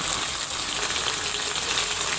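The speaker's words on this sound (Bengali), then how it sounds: "তো এখন দিয়ে দেবো আদা রসুন পেস্ট।" Ginger garlic paste added to frying onions in a pan sizzles loudly and steadily, a dense crackling hiss close to the microphone throughout with no talk.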